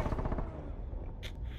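Rapid gunfire in the Rainbow Six Siege video game on PS4, a loud burst of closely spaced shots at the start fading into a dense rumble, with a brief sharper crack near the end.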